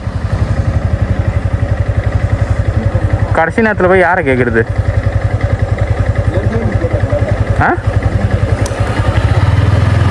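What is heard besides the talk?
motorcycle engine idling before a bike trip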